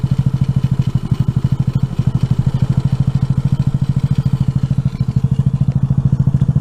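A Honda NAVI's small single-cylinder engine idles steadily after a carburetor adjustment, putting out a loud, even, rapid thumping pulse close by that holds a constant rhythm throughout with no voices.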